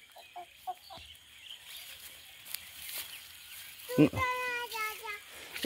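Chickens cluck and squawk nearby in short bursts, mixed with a voice calling out over faint outdoor background.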